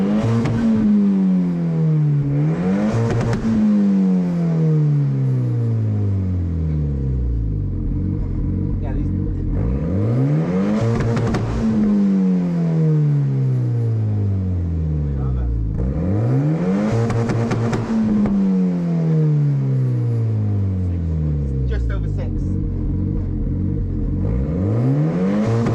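A Volvo 940 Turbo engine revs repeatedly up toward its rev limit of just over 6,000 rpm, each loud rising pull followed by a falling drop back to idle, heard close and alone in a steady cycle.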